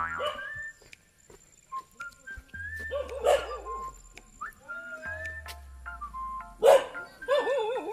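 Several dogs bark in scattered bursts outdoors in a Philippine neighborhood, with loud clusters near the middle and end, set against birdsong and other ambient background sounds.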